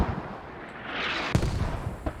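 Mortar shells land around a market area in a competitive squad shooter video game. A sharp, fairly distant blast comes mid-clip and a fainter one near the end, over a low rumbling background.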